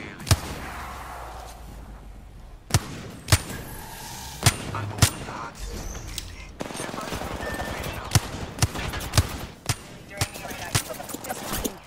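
Video game gunfire in a busy match, with sharp single shots and short bursts cracking out at irregular intervals over a low background, while a player talks between the shots.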